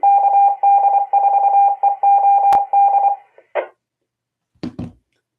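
A phone-style electronic alert sounds as a steady run of loud, pulsing beep tones for about three seconds, followed by a couple of short, separate electronic blips after a pause.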